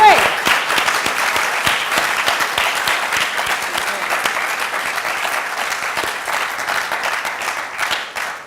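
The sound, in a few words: audience applause at a careers event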